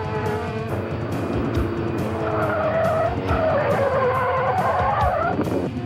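Indy race cars on an oval track roar loudly and continuously as their tires squeal and skid in long rising whines over the engine noise.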